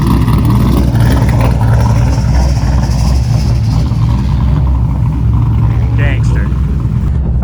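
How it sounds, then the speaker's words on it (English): An LS-swapped Mazda Miata drift car fitted with electric power steering drives by with a loud, constant V8 engine rumble and drone that dominates throughout, overlaid by voices talking. "we're going out for the first real drifts in the LS Miata with the electric power steering"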